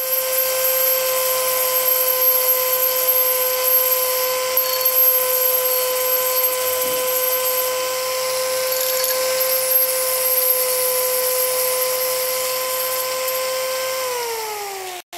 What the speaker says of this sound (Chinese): 对，打磨机，你得安个砂轮吧？